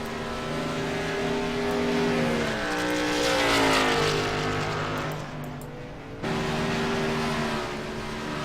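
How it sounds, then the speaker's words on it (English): Race car engines roar loudly and continuously, pitch climbing and falling as they rev and downshift, with a sudden drop and return as cars pass by close. "When they updated those engines, that's when it got bad. To where it's so loud."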